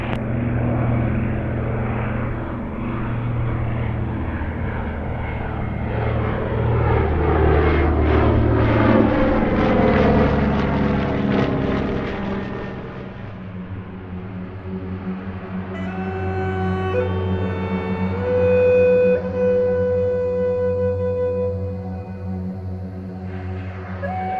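A Catalina warbird flying boat makes a low pass at an airshow: a loud twin piston propeller drone builds, peaks overhead with a pulsing Doppler sweep, then fades as it moves away.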